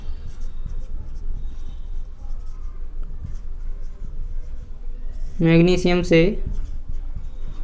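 Scratchy marker or chalk strokes on a board during a chemistry lecture, faint and intermittent, with a teacher briefly speaking partway through.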